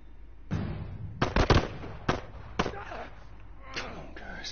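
Gunfire in The Last of Us video game: a handful of sharp shots and thuds at moderate loudness, irregularly spaced, with a person talking over part of it.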